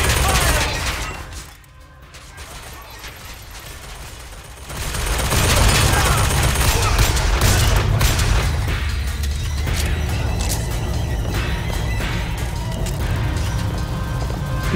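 Automated turret firing rapid bursts during combat in Bioshock Infinite, a dense loud clatter of gunfire layered with game noise, quieter for a moment early on, then sustained and heavy for the rest.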